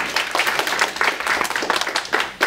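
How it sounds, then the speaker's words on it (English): A seminar audience claps for a speaker, a lively burst of close, crisp handclaps in a fast, uneven patter that continues steadily with no speech over it. "Let's give him a round of applause."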